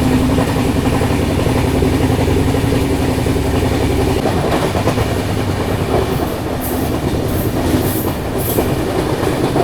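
A Malwa Superfast express train rushes past alongside on the adjacent track, heard from a moving train. The loud, steady rumble and rattle of its wagons is continuous, and faint squeals come through near the end.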